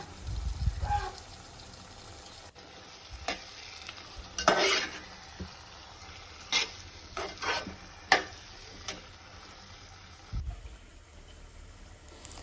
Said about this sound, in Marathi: मॅरिनेट केलेली कोलंबी आहे ती टाकून घेऊया आणि दहा ते पंधरा मिनटं कोलंबी शिजवून देऊया